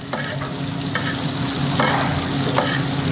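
Aged beef sizzling steadily in a pan while being basted with melted butter over a controlled flame, a continuous close frying hiss with periodic brighter bursts as the butter is spooned over, no talking.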